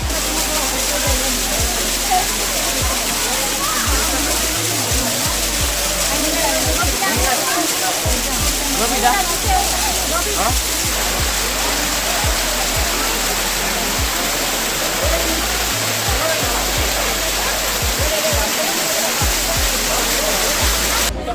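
The Akasha Ganga waterfall at Tirumala roars loud, close and unbroken, a dense wash of cold falling water with a brief voice heard over it.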